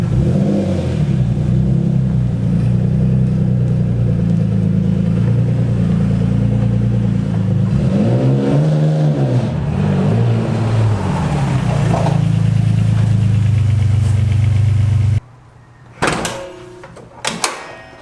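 A car is eased gently into a home garage, its engine giving a close, steady low rumble with a slight swell midway, then shutting off near the end, followed by a couple of thumps like a door.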